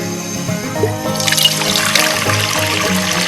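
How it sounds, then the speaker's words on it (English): Water poured into a cooking pot at an outdoor fire, a steady close trickle and splash that grows brighter and fuller partway through, with no talking. "I'm gonna go get some water in my pot and get her starting to heat up"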